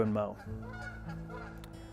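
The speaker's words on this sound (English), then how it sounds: "Geese have no respect when you're trying to make a film." Geese honk loudly near a lawn being prepared for mowing, a few sharp calls at the start followed by quieter honks, with someone speaking briefly underneath.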